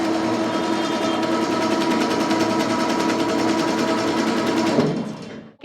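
A computerized embroidery machine runs steadily with a fast, even mechanical stitching whir and hum at close range for about five seconds, then winds down and stops.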